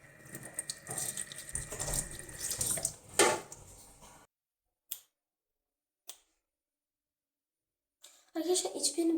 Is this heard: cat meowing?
no